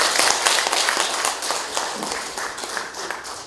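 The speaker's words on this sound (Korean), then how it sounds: "큰 박수로 환영해 주십시오." Audience applause at a symposium hall welcoming a speaker, a steady wash of many hands clapping throughout, fairly loud and without talk.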